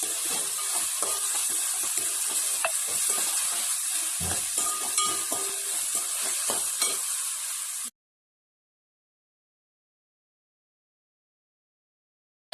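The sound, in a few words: tomato and fresh mint frying in a pan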